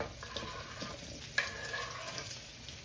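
Spam frying in a skillet, a quiet, steady sizzle with soft stirring noises and one brief sharp clink midway, heard close but faint, with no talking.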